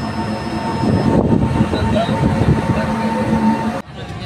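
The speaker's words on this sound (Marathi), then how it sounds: "बघा ट्रेन येते." A mail train passes on the rail line near Vangani station, its loud, steady rumble and rolling wheel clatter filling the whole stretch before easing slightly near the end.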